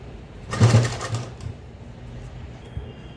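Sewing machine stitching a blouse, a short burst of needle chatter followed by quieter mechanical whirring and clicks, close and moderately loud.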